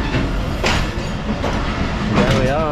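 A Pakistani sleeper train rolls along the rails in cold weather near Multan, a loud steady rumble with clickety-clack beats and a brief wheel squeal toward the end, up close.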